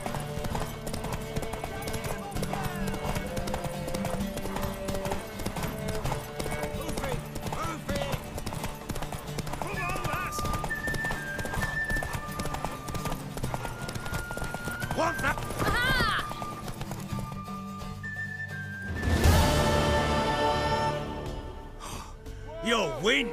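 Horse hooves clip-clop steadily in The Witcher 3, running under a game score and voiced dialogue, with a sharp breathy whinny or snort late in the stretch.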